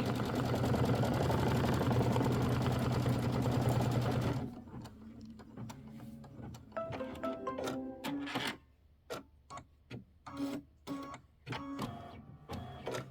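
An embroidery sewing machine stitches a chest placement line on pink fabric for a mini quilt block. A loud steady whir gives way to a rapid series of sharp mechanical ticks and clacks, close up with no speech.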